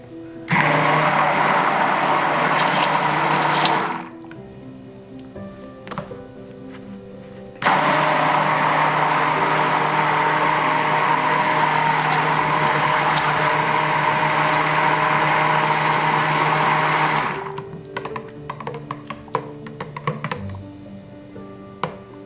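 A stick blender whirs steadily while mixing homemade activated charcoal facial soap, one short run, a pause, then a longer continuous run, followed by light tapping and clinking.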